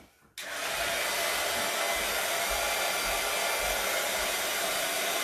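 A handheld hair dryer switches on abruptly and runs with a loud, steady, close-up blowing whoosh that continues unbroken, with no talking.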